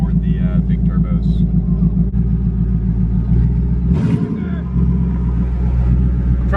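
A 1000hp Mustang idles with a heavy, lumpy rumble, swelling briefly in a short rev with a rising turbo whine around the middle, while people talk close by.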